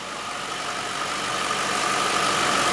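A cold Chevrolet Corvette LS1 V8 idling, heard close to the engine bay: a steady, even drone with a faint whine, no tapping, rising slightly in loudness over the span.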